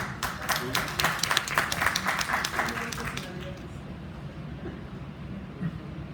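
Audience applause at a lecture on legal rhetoric and argumentation, a burst of brisk clapping that fades out after about three seconds, leaving quiet room noise and some talk.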